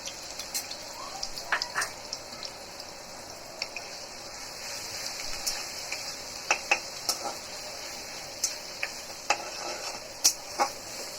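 Onion paste goes into a pan for chicken biryani and is stirred, a steady soft sizzle with repeated light scraping and clinking taps of a spoon against the pan.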